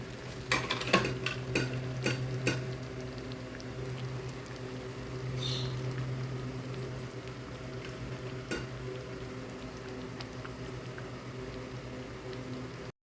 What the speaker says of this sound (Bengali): এখানে বাগার দেওয়ার জন্য রসুন পেঁয়াজ এবং ঘি নিয়ে নিয়েছি এখন হালকা বাদামি করে ভেজে খিচুড়ির উপর দিয়ে দেবো